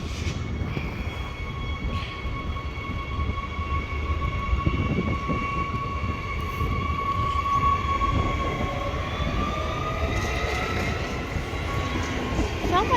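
A train rolls through East Perth station with a steady, loud rumble of wheels on track and thin, sustained metallic squeals drifting in pitch above it.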